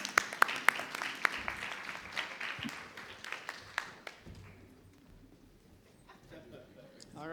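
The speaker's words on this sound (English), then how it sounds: "A round of applause." Applause from a conference audience at an afternoon session, a burst of claps with sharp individual hits that thins out and fades to a quieter murmur by the end.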